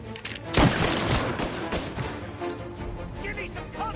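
Gunfire in a video game shootout: a heavy, close fusillade of overlapping shots that opens loudly and then rattles on under a busy mix, with voices shouting in the background.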